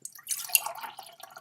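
Water poured into a container while painting, a short, close, trickling splash lasting about a second and fading out, with no talk over it.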